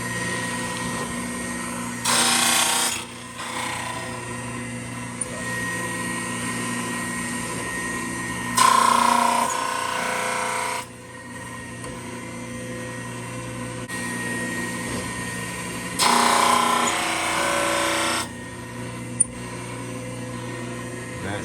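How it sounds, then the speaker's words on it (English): A drum sander fitted with 120 grit sandpaper grinds a carbon spacer in three loud passes, each a few seconds of raspy abrasive roar over a steady machine hum, with no talking. "So I'm just gonna run this through my drum sander with 120 grit so it holds epoxy well"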